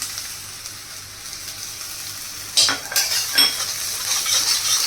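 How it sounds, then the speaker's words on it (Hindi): Garlic and ginger fry with softened pinkish onions in a pan while cooking filling for gobhi paratha, giving a steady close sizzle and hiss. A few louder stirring clatters and scrapes come in the second half. "अब इसमें हम लहसुन और अदरक को डालेंगे"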